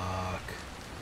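Rain falling in the video game Dying Light, a steady soft hiss of raindrops on surfaces, faint and continuous, with a brief tonal sound fading out at the start.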